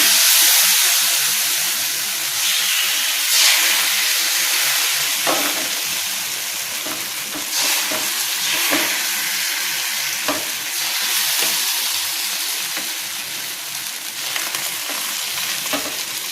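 Rice batter for neer dosa poured onto a hot pan, a loud steady sizzle and hiss that runs continuously with bursts of crackle as the thin batter spreads and fries, no voices.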